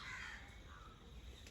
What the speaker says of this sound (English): Birds that had disappeared have come back. You can hear their noise all the time.